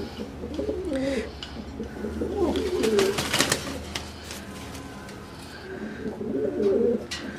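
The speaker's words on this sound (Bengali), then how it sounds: "তো ইসমাইল ভাই আপনার এই দারুন লক্ষা জোড়াটা কত চাচ্ছেন ভাই" Fancy Lakha pigeons cooing in soft, low, throaty bursts, heard close by over a background murmur with some faint voices.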